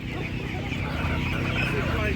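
A White Leghorn hen clucks amid a noisy livestock market, her calls mixed into a steady crowd din with people talking throughout and other poultry nearby.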